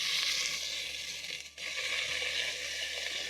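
Onion frying in oil with toasted whole spices such as cumin seeds, a steady close-up hiss and sizzle with a brief dip midway, no talking.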